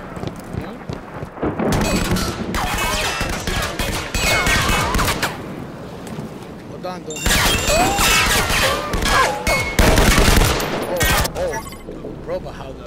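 A gun firing in a video game, heard as rapid bursts of loud gunfire with mechanical clatter, two dense volleys separated by a quieter gap, close and forceful.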